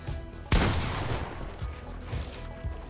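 A sharp, loud gunshot from a shooting video game, followed by a fading rumble and a few softer, scattered thuds.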